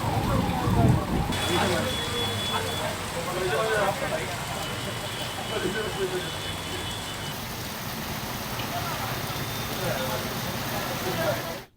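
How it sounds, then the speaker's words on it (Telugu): Heavy rain pours in a dense, constant hiss, with a voice talking over it throughout and a faint siren-like tone in the background. "విజయ్, హైదరాబాద్ లో ఉన్నట్టుండిగా ఇంత భారీ వర్షం నమోదు కావడానికి గల కారణాలేంటి?"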